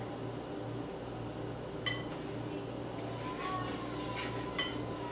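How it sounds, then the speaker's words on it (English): A spatula stirs thick zucchini apple bread batter in a bowl, giving faint scraping and a few light clinks over a steady low kitchen hum. "And now I can use my spatula to mix everything."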